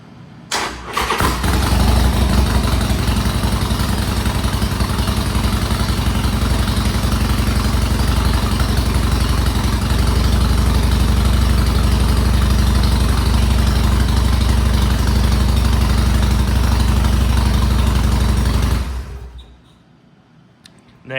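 A Harley-Davidson Sportster motorcycle fires up with a brief cranking burst, then settles into a loud, steady, close-up idle that runs for about seventeen seconds before the engine is shut off and goes quiet.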